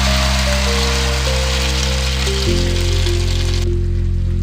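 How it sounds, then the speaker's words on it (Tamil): Beaten egg hits hot oil in a pan and sets off a steady, loud sizzling hiss for a few seconds, with sustained musical tones running underneath; the hiss drops away sharply near the end. "அதில் 1 ஸ்பூன் ஆயில் ஹீட் ஆனாலும் நம்ம அடித்து வச்சிருக்கிற எக்கு அதை சேர்த்திடலாம்"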